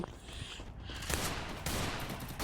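Gunfire in the Free Fire video game, a dense broadband burst of rapid shots with loud sharp onsets around the middle and later, continuous and close over the game's background noise.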